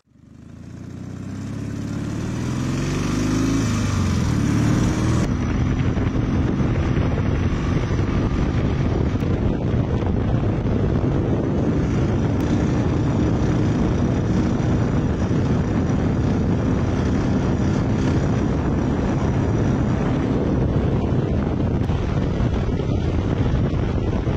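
A Dnepr MT-11 sidecar motorcycle gets underway and rides on, its engine droning loud and continuous under heavy wind rush against the microphone, with no one talking.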